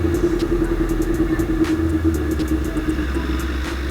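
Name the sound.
motorcycle engine revving high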